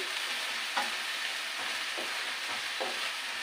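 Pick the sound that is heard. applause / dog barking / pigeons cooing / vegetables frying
vegetables frying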